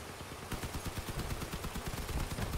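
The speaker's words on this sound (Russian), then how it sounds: "Попробуем пушки ему оторвать с нашего пулеметика" Rapid machine-gun bursts in the vehicle combat game Crossout, a dense string of sharp, evenly spaced shots rattling continuously after a brief lead-in, fairly faint in the mix.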